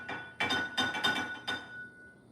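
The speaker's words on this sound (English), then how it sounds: "This is a glass bottle, 16 ounces." A 16-ounce glass bottle clinks sharply about five times in quick succession, close and clear, before ringing out into quiet.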